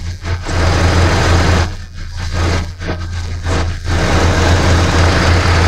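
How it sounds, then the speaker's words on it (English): A car engine idles low and uneven, shaking slightly, a steady deep rumble with a slight shaky pulse and a few brief dips in level. "the engine idles low, causing it to shake a little"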